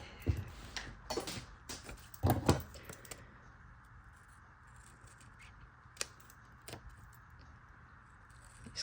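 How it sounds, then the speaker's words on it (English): Scissors snip paper cut from a 1950s ephemera book, a few crisp cuts close by early on, followed by faint ticks and rustles in a quiet room. "I'm not going to manage to fussy cut and cut it out of the book all in one go"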